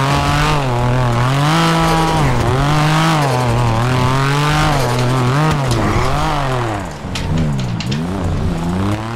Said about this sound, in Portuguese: Carro aqui, vamos dirigir.